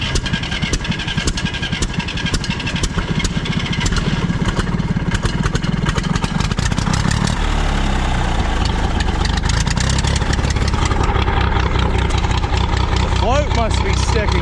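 A flooded tractor engine runs roughly, loud and close, with raw fuel coming out of the exhaust and a steady uneven rumble throughout, while a person talks over it.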